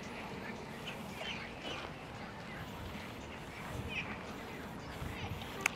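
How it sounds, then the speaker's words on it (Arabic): Ducks on a large artificial lake in western Istanbul quack faintly and intermittently through steady outdoor background noise. "بط هالمكان مليان بط"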